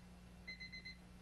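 A faint alarm clock rings in a short run of quick, high-pitched beeps over a steady low hum, ending with a small click.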